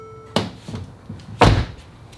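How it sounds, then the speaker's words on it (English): A cheap Mercedes car door with a faulty lock or latch is worked, giving a short clunk followed a second later by a heavier thud as the door moves, close by with no voices. "open the door"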